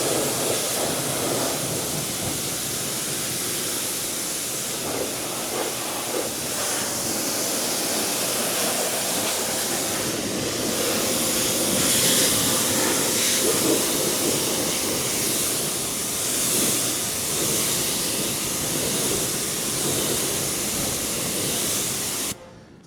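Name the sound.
water rinse spraying a car wheel and tire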